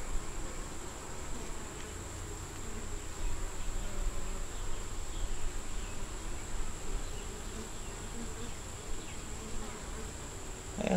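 Honey bees drone in a dense, continuous buzz around hive frames holding brood and nectar, close and steady throughout with no talking.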